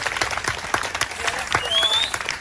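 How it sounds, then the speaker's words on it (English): An outdoor summer concert audience claps for a glockenspiel player, a steady patter of many hands with a few sharp nearby claps, while voices and a cheer or whistle rise faintly underneath. "Special clap for Wayne on the glockenspiel"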